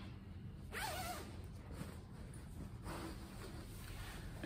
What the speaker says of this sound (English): It's got a zipper here